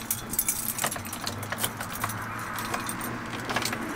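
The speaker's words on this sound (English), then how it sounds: "So many keys, so many keys." A bunch of keys jangles in bright, irregular metallic bursts over the steady hum of a Chevrolet C10 pickup engine being worked on for a suspected bad alternator.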